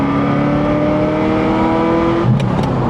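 Ferrari 348 Spider V8 engine drones steadily at low revs while driving through town, a loud constant hum with a brief gear-change blip near the end.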